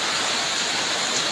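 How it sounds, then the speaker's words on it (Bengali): A brief burst of heavy cyclone rain from Cyclone Sitrang, heard as a constant, loud, broadband downpour hiss with no breaks or voices. "ভারী বৃষ্টি ধারাবাহিকভাবে চলতেছে"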